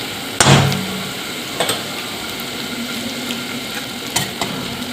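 Garlic, cumin and chili powder stir-fried in a pan, a steady sizzle with a loud spoon clank near the start and a few sharper scrapes and taps against the pan.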